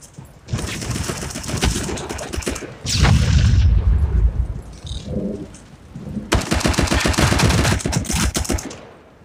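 A grenade bursts in the mobile shooter game Shadowgun War Games with a heavy rumbling boom. Bursts of rapid gunfire come before it and after it, loud and close.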